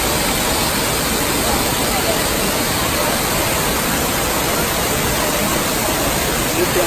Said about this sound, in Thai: นี่เป็นคำรามของน้ำตกนะครับดังเดียวนะครับเพราะว่าความสูงของน้ำที่ตกร่วงลงมานะครับทำให้เกิดเสียงสนั่น